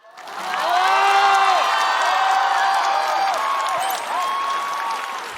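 A large audience claps and cheers in a sustained roar of applause that swells quickly and holds steady for several seconds.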